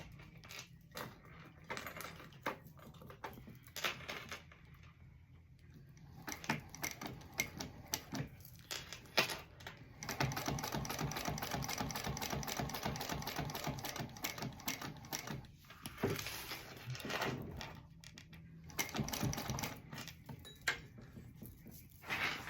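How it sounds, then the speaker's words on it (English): A sewing machine stitches the three sides of a zip-around pouch, rapid mechanical clatter in bursts with short pauses between runs, steady and close. "I'm going to sew on all three sides"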